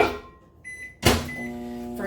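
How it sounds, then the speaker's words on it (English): A microwave oven starts heating a keto cheese bun: a beep tone, then the door thunks shut and a steady electric hum with a faint high whine carries on, close and fairly quiet. "So I'm gonna just microwave it"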